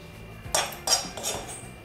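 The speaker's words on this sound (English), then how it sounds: "I'll put it in the grinding jar." Ingredients for a carrot cake with gajar ka halwa frosting drop into a steel grinding jar, three sharp metallic clanks spaced about evenly, close and clear against a quiet kitchen background.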